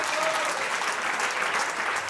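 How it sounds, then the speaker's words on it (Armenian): An audience at a live concert applauds in a dense, steady wash of many hands clapping, close and full for the whole stretch. "Եկեք մենք բարձր ծափարենք մեր ժողովրդին"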